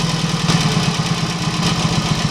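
A Norton Nomad 500 motorcycle engine idles at a steady, even tick over, its close, loud low thrum pulsing rhythmically throughout.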